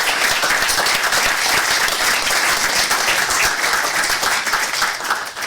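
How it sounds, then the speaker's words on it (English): Loud, dense round of applause from the audience at a city council regular meeting, many hands clapping steadily and close for the whole stretch, tapering slightly at the very end. "you're not going to get away without a round of applause for your great work on the videos"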